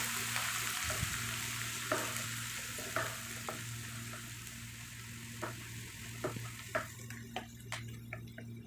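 Green chillies and curry leaves sauté in a pan for dates pickle, giving a steady, soft sizzling hiss throughout. A spoon scrapes and clinks against the pan about once a second, growing busier near the end, over a faint, constant low hum.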